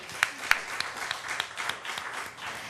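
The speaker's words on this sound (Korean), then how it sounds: "우리 박수 한 번만." A small church congregation claps during a Sunday worship service. The applause is moderate and uneven, with a few distinct sharp individual claps standing out.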